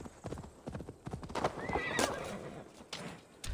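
Horse hooves clip-clopping and a sharp neigh in the video game Assassin's Creed Valhalla, close and loud, with uneven hoofbeats leading into a whinny midway and game ambience around it.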